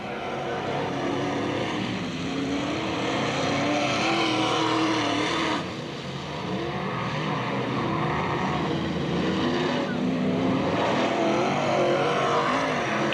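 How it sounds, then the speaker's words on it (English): Race cars circling the Penn Can Speedway oval during a 1997 race, a continuous engine roar that swells and fades as cars pass at mid distance, with no talking over it. "So Verkaitis takes it out of turn 2 all by himself."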